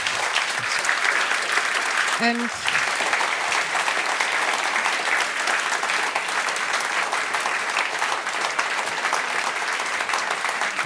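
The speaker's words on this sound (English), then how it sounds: "I think we can give you another round of applause." Sustained audience applause fills a lecture hall at the close of a talk on Belarus and Central European history, steady and dense throughout, with a brief spoken word from the host over it.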